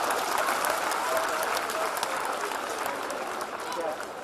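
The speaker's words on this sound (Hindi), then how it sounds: "आप तो खाली तालियां बजा दो तो ज्यादा अच्छा लगेगा" An audience claps steadily at a Hindi comedy poetry show, a thick, even wash of hands over four seconds that tapers slightly toward the end.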